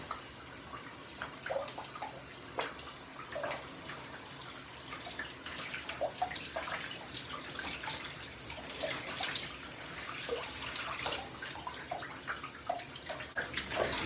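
Shower water runs steadily while hair is being wet, a continuous hiss and splash with small drips and shifting spatter over about fourteen seconds, no talking.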